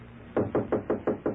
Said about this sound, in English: I heard some rapping on my door.